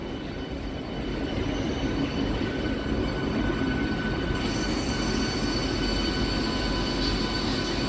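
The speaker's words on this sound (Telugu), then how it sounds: "ప్లాట్ఫామ్ దాటి కూడా వెళ్ళిపోతుంది ట్రైన్" A MEMU passenger train runs past a platform with a continuous, even rumble of wheels on rails and faint high squealing tones over it.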